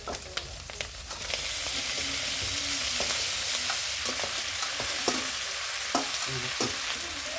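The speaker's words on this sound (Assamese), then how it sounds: "আৰু এতিয়া মই বইল কৰি লোৱা পাস্তাখিনি এড কৰিম।" Boiled pasta is tipped into a hot pan with oil and a little turmeric and fried, giving a steady close sizzle with frequent scraping stir strokes throughout.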